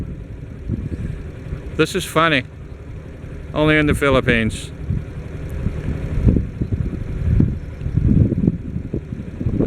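A car running with its hood missing and its engine exposed, a steady mid-pitched engine idle and rumble passing nearby on a Guimaras Island road in the Philippines, with someone talking over it in two short bursts.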